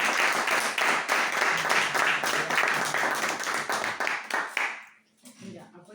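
Audience applauds author Ana Santamaría at the launch of her book Filo, a dense, steady burst of clapping for about five seconds that cuts off abruptly, followed by faint room sounds.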